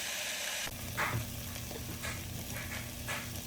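Cauliflower pieces sizzling in a hot pan on a stove flame, a steady close frying hiss with a few soft stirring scrapes and a low hum underneath.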